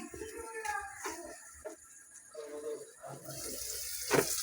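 Water running and splashing as it is poured into a simmering curry pot, a soft, close gush that swells near the end, with voices talking over it.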